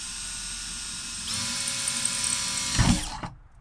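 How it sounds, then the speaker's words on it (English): A power drill bores a pilot hole in the roof of a RAM Promaster 2500 van. After a quiet start, a steady high-pitched whine runs for about two seconds, close and fairly loud, then ends with a brief rough grinding. "And I'm drilling for the pilot hole."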